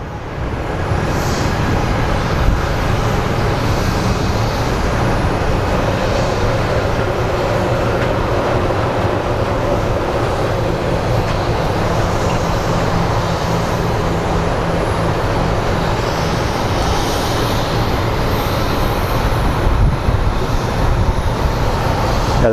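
A jet airliner in Island Fox livery departs Phoenix Sky Harbor in a strong crosswind, its engines a loud, steady broadband roar that holds throughout, unbroken and close.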